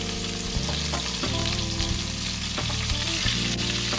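Garlic, ginger and green chili fry in hot oil for veg chowmein, making a continuous bright sizzle with occasional stirring knocks and a faint tonal hum underneath.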